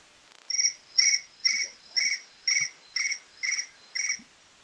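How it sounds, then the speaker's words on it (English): Crickets chirp in eight evenly spaced bursts, each a bright trilled pulse roughly half a second long, clear and fairly close against quiet background. "Crickets are up."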